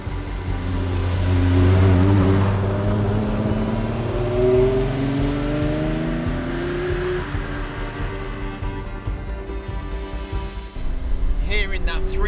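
Ferrari 275 GTB/4 with a 3.3-litre V12, freshly restored after three years, driving on open roads; the engine drones steadily with rising and falling rev sweeps, close and loud throughout the run.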